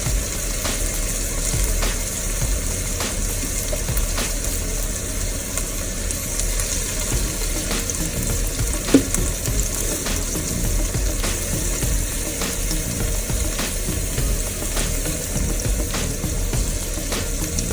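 Steady hissing, rushing water noise continues throughout as water is poured into a cooking pot of spaghetti sauce, with a faint clink partway through.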